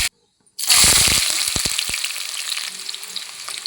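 Hot oil in a bowl on the stove for mutton curry suddenly bursts into a loud, close sizzle that settles into a steady crackling hiss, following a brief silence.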